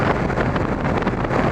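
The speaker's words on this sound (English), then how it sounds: "That was a front gust." Wind buffeting a rider on a Kawasaki ZX-12R during a highway commute, a dense, steady roar of rushing air and engine noise, loud and close with no voices.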